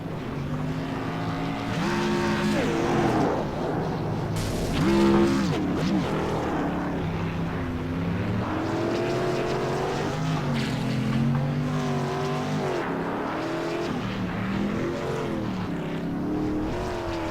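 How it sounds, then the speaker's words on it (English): A modified race car does a victory burnout at Rockingham Speedway, its engine roaring and revving up and down continuously with rising and falling pitch sweeps, loud and sustained throughout without commentary. "will come down to do his victory burnout"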